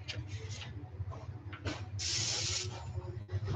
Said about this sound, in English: I'm just spraying a little bit of paint on this card